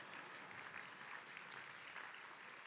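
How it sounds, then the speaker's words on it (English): A luncheon audience claps together in a soft, even patter that holds steady for a few seconds, heard from some distance. "Every time someone says Steve Kleinberg, you have to applaud."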